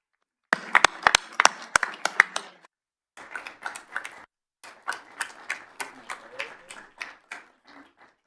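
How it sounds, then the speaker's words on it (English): Scattered hand claps from a small group at a city council meeting, sharp and distinct, coming in short bursts separated by brief silent gaps before fading out. "let's get a round of applause for Eric."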